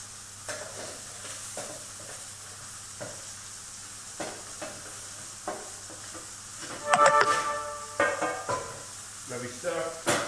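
Cooked squash is tipped into a hot pan of onions and stock, giving a steady low sizzle with scattered stirring scrapes and clatters that grow louder toward the end, under a voice talking.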